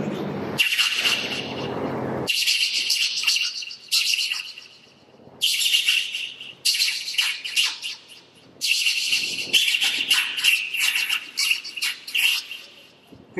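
A mimic imitates birds chirping with his voice in rapid, shrill, high-pitched trills and tweets, delivered in repeated bursts separated by brief pauses, loud and close.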